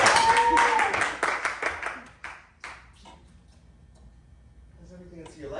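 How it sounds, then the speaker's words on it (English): Live theater audience at The Pack Theater clapping loudly for about two seconds, the burst tapering into scattered claps before fading under quieter room sound. "Let's clap it up."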